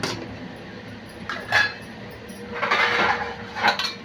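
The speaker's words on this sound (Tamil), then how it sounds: "இப்போ நம்ம ஒரு மூடி போட்டு இதை நல்லா ஒரு பத்து நிமிஷம் வேக விட்டுடலாம்" A lid set down on a pan of simmering crab curry in a home kitchen, giving a few light metallic clinks and a brief clatter, close and fairly quiet over low background noise.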